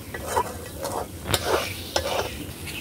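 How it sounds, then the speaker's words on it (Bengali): Salted hilsa bhuna is stirred in a pan over village cooking heat: repeated scraping strokes of a utensil against the pan, each sweep followed by soft sizzling from the frying fish, close and clear. "কিন্তু অনেকক্ষণ নাড়তে হবে।"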